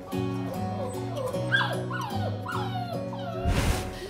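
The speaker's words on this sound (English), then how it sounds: "It's now been two weeks since Yara's pups arrived at the Guide Dog Centre" Young guide dog puppy at a guide dog centre whimpering and yipping in repeated high, wavering cries, close and alone, ending in a brief rustle.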